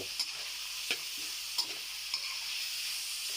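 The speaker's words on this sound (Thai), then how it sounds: "ใส่ เนื้อหมูลงไปนะครับพัดเนื้อหมูให้มันซุกก่อนเนาะ" Pork stir-fries in a pan with a soft, steady sizzle, broken by several sharp scrapes and taps of a spatula stirring the meat.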